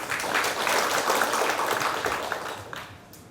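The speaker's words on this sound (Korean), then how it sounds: "큰 박수로 격려해 주시기 바랍니다" Audience applause greeting a new civil servant about to present at a district office expanded staff meeting; steady dense clapping fills the room throughout, tapering off near the end.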